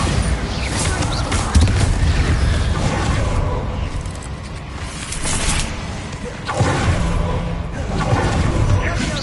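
Incendio fire spell cast in a Harry Potter video game, a run of whooshing blasts and booming impacts across the clip, loud and busy with game noise.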